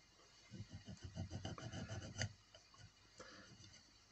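Filing a small metal part for a 1/35 scale Schnellboot model, a faint close rasping of quick back-and-forth strokes in a steady rhythm, then a few slower strokes, heard alone without speech.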